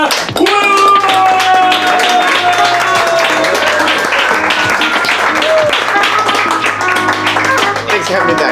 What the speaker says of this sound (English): Put your hands together to make a clapping noise for Kevin Willmott!